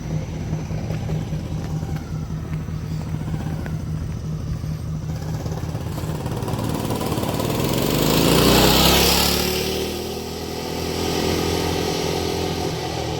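A small mini bike engine runs with a buzzing, lawn-mower-like drone that swells louder as it passes close by and then fades slightly as it rides away.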